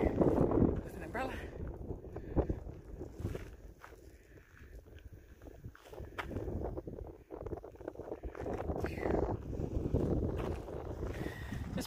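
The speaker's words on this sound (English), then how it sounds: "A bit windy, but that's okay." Gusty wind buffets the microphone on a mountain meadow trail, rising and falling in rough waves along with scuffing footsteps.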